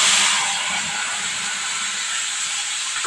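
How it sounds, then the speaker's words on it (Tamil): Boiled chickpeas hit hot oil with popped mustard seeds in a pan, giving a steady, close, bright sizzling hiss that holds evenly throughout. "இப்போ கடுகு நல்லா பொரிஞ்சிருச்சு. இப்போ இதில் நம்ம சுண்டலை சேர்த்துருவோம்."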